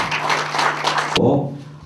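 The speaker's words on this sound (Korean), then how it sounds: "큰 박수로 축하해 주시기 바랍니다" An audience claps to congratulate a member at a World Green Climate Association ceremony: a loud, even burst of applause over a low hum that cuts off abruptly partway through.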